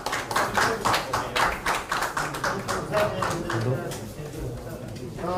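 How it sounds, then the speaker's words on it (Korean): An audience claps to welcome party campaign officials entering a Busan election committee meeting, a dense rhythmic patter of hands under a loud PA-style hall ambience. "큰 박수로 맞이해 주십시오"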